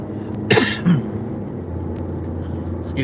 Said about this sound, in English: Excuse me on the cough.